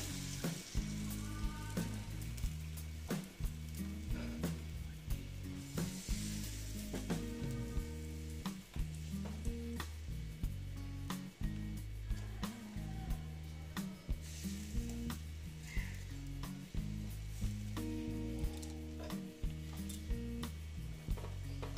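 Rice-flour batter for patishapta pitha is poured into a hot oiled pan and sizzles steadily at low volume, with faint utensil clinks beneath prominent rhythmic background music.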